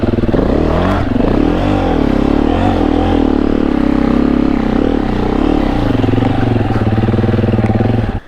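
Dirt bike engines in Australia's alpine high country, droning loud and close, rising and falling as the bikes ride through deep ruts, then cutting off at the end.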